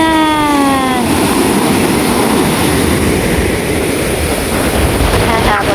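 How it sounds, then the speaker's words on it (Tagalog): Rough sea waves pound the shore on the fourth day of stormy weather, a loud, continuous roaring wash that never lets up. A brief whining tone rises above it at the very start and then fades. "Kaya po lalong lumalakas po yung alon."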